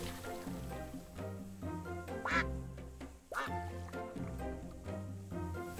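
A couple of duck quacks from the Capybara Spa video game break through looping background music while a player talks over them.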